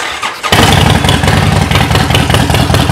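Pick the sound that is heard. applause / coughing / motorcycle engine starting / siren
motorcycle engine starting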